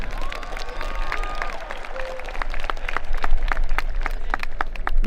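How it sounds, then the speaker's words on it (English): Audience at a 2022 career and technical center commencement ceremony applauds collision repair graduates, with steady crowd clapping that swells slightly midway, a few sharp individual claps standing out, and faint voices underneath. "Ladies and gentlemen, a nice round of applause for collision repair."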